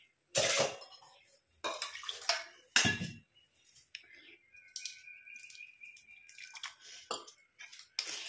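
Water splashes and trickles into a bowl of natural hair dye mixture amid clinks and taps of a utensil, with quiet gaps between pours.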